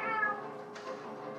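A video game cat from the Final Fantasy XIV and Monster Hunter World collaboration trailer gives one clear, fairly loud meow at the start, then a low hum of background noise continues.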